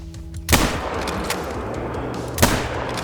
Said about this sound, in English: we're going to be using the Ranger 243. Now, the 243 is a non-DLC rifle.